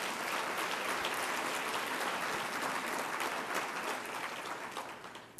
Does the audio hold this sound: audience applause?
yes